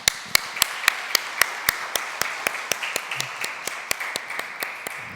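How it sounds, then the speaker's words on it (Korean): Congregation clapping in a Korean church service, a steady run of sharp, evenly paced claps, about four per second, close and distinct, with a faint hum behind and no speech. "우리 경례의 박수 한번 보내줍시다."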